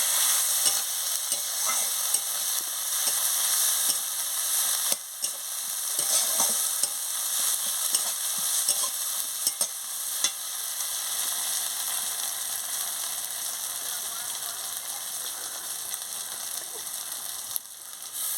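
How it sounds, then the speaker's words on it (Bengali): Turmeric and chili powder sautéing in a pan for a tilapia and Malabar spinach curry, a steady close sizzle with frequent scraping stirs and clicks throughout, no voices. "হলুদের গুঁড়ো দিয়ে দিচ্ছি, লঙ্কার গুঁড়ো দিয়ে দিচ্ছি, দিয়ে মশলাটাকে ভালো করে কষিয়ে নিচ্ছি"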